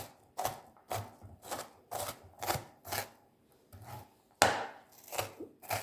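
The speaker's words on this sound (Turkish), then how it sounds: "Şimdi soğanımı doğramakla başlıyorum" Steady, rhythmic knife chops finely cutting onion on a cutting board, about two per second, close and crisp with a slightly louder strike near the end.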